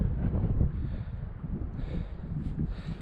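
Strong gusts sweep across an open lake around a canoe, with heavy low wind buffeting and rumbling against the microphone, no voices.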